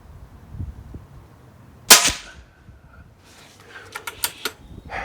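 A single sharp crack from an Air Arms HFT 500 .177 PCP air rifle, close and loud with a quick decay, followed by a few faint clicks and handling sounds while the shooter stays quiet.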